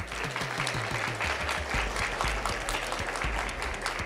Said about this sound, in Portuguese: merece palmas, né?